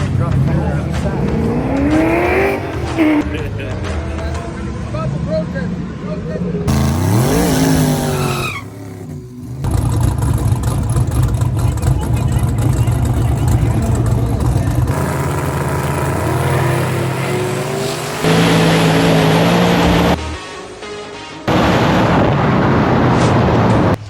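A drag race car at LS Fest roars through loud engine revs, rising gear sweeps and tire squeal, with abrupt cuts between segments and voices talking under the noise.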